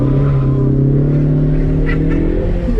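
A 2020 Ford Mustang EcoBoost on a wet road in the rain, heard from inside the car, its engine droning loud and steady with a rising revving tone as the gas is tapped.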